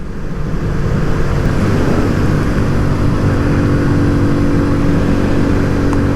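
A 2023 Kawasaki Z125 motorcycle engine holds a steady drone at around 6,000 RPM while riding at 40 to 45, loud and continuous, mixed with wind rush.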